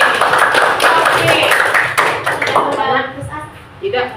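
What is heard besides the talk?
applause for group B in a class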